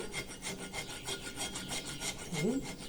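Steady rhythmic rasping of a hand rasp worked over alabaster stone to level bumps left from drilling a hole, close and continuous strokes with no talk.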